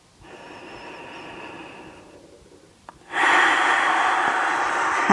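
Breathing held in a warrior three pose during a vinyasa yoga flow: soft tones fade out, then a loud, close, airy breath begins abruptly and holds steady for about two seconds.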